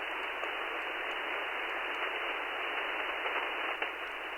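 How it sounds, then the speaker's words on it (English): A radio being tuned gives off a steady hiss of static, fairly faint and continuous, with small crackles and no voices. "this is one haunted radio"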